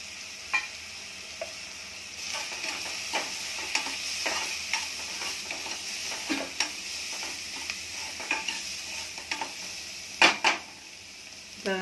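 Onion and spices frying in a pan over low heat, a steady soft sizzle broken by occasional stirring scrapes and clicks, with a few sharper utensil knocks near the end.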